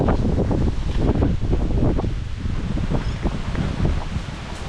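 Strong wind blows outdoors near a house during a storm, making a continuous loud rushing roar with gusting surges, rustling leaves and buffeting against the microphone; no voices are heard.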